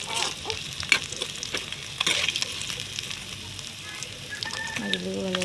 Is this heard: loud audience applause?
no